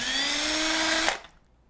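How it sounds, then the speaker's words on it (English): A cordless drill driver whirs steadily while backing out the mounting screws of a three-way dimmer slide switch, running close and loud for about a second before stopping abruptly and leaving near silence. "I'm going to go get my drill to remove the device screws here"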